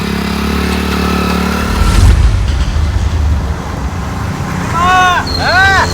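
A motorcycle rides past with a loud, close, steady engine roar and broadband road noise, and brief voices or chirps join near the end.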